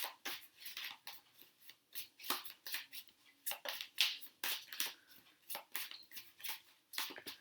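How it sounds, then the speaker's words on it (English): A deck of oracle cards gets shuffled up close, a run of quick papery riffles and slides coming in short repeated bursts, with no talking. "let's give these cards a shuffle"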